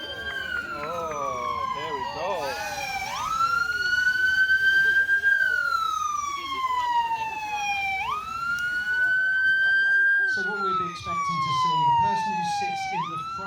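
Fire engines from Pevensey arrive at an Eastbourne chip pan fire demonstration, their loud wailing sirens sweeping up and down in long repeated cycles, with a second siren joining near the end and a voice talking faintly underneath.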